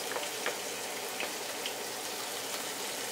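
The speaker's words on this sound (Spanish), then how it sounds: "aquí estamos poniendo los ingredientes a la cazuela. Tenemos con la cebolla, el jitomate, el ajito," Onion, tomato, garlic and chili frying together in a cazuela for a soy-meat taquito filling, a soft, even hiss with faint scattered pops.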